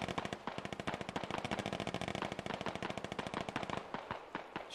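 Rapid automatic gunfire rattles in a war video game, a dense continuous stream of sharp shots that thins into a few separate bursts near the end, loud and unbroken by talk.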